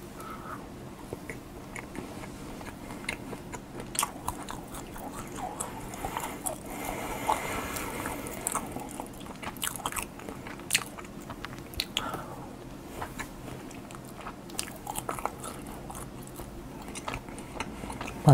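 Someone bites and chews chocolate brownie from a handmade Valentine chocolate cake in close-up. Soft moist chomps and squishy mastication repeat irregularly over a quiet background.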